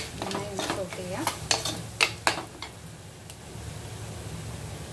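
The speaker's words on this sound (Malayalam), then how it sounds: "ഞാനിപ്പോൾ സാധാ മുളക് പൊടി ചേർത്തിരുന്നു നന്നായി ഒന്ന് സോട്ട് ചെയ്യാം" Green chili and chili powder sautéed in a pan for a raw mango curry, with a few clinking stirs and scrapes in the first seconds, then a faint steady sizzle.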